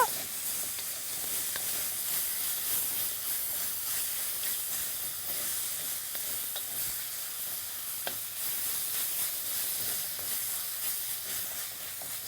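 Chana masala gravy with garam, chaat and biryani masala sizzles in a pan, a steady, loud hiss that runs unbroken for the whole stretch with faint scraping underneath.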